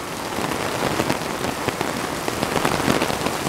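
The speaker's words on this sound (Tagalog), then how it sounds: "Malakas ang ulan." Heavy rain pours down steadily, a dense close hiss of drops pattering on surfaces with no pause, loud and continuous throughout.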